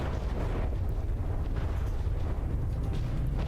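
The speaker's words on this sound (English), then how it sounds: "shooting some shorter Hesh frag explosives." HESH frag explosive shells burst during a Gimle versus battleship fight in the naval game From the Depths, merging into a dense, continuous low rumbling barrage that stays loud throughout.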